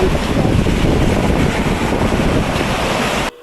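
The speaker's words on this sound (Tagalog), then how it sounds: "at pakinggan nyo ang dagat." Steady roar of sea waves washing ashore at a beach in Bauan, Batangas, broad and continuous with a windy rush, cutting off abruptly near the end.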